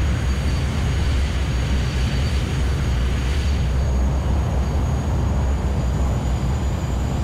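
Airliner touching down and rolling out in Microsoft Flight Simulator X, a loud, steady engine roar and rumble with a faint high whine above it, no voices.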